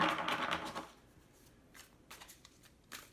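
Tarot cards riffle and slide together in a brief, close burst at the start, followed by a few soft, separate flicks and taps as cards are drawn and laid out in a quiet room.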